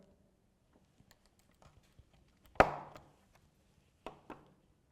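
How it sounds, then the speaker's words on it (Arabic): A single sharp cut of a reed pen nib made in one stroke against a wooden board, a crisp close snap followed by quieter taps and a couple of later light knocks, with no talk. "وعملية القص أو القط لازمها تكون في حركة واحدة"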